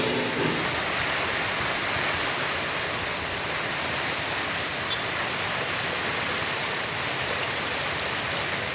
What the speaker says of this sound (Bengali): সবচেয়ে ভাল লাগে হচ্ছে কচু পাতার উপর যে বৃষ্টি পড়ে সেইটা।